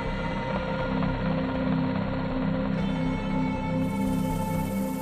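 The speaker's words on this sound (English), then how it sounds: "soon board an HS-60 Seahawk helicopter and leave Nimitz." An HS-60 Seahawk helicopter produces a steady, loud, close mechanical drone with strong low rotor and turbine hum and a whining high tone, continuous throughout with no talking.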